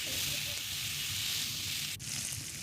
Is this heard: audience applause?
no